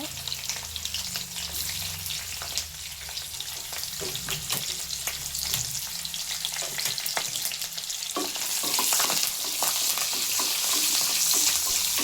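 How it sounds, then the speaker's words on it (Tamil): Onion, dried chilies and curry leaves sauté in oil in a kadai, a steady loud sizzle with scraping stirs throughout that grows louder toward the end, with no talk over it. "ஆயில் விட்டோடனே 1 வெங்காயம், காஞ்ச மிளகாய், கருவேப்பிலை போட்டு வதக்குங்க."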